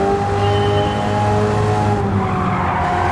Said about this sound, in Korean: 와, 이거 드리프트로 가네.